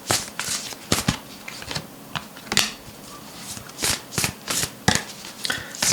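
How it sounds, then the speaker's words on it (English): Tarot cards being shuffled by hand, crisp riffling bursts and sharp card snaps repeating irregularly at close range, with no talking. "Let's pull two cards."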